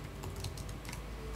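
Quiet keystrokes click on a computer keyboard, a short run of soft, irregular taps over a low background hum.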